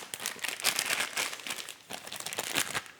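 A plastic piping bag crinkles and rustles steadily as it is filled with buttery cookie icing, close and continuous with small crackling peaks, no speech.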